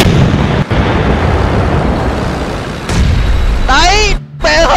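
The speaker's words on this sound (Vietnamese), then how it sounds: "Xe này không chỉ chạy được mà anh em có thể gọi là bắn được luôn." A tank cannon blasts in PUBG with a loud roaring burst, then a second sharp report near the end, followed by an excited voice shouting over the fading rumble.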